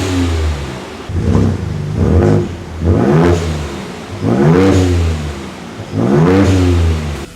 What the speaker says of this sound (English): Why not let's hear the stock exhaust sound first.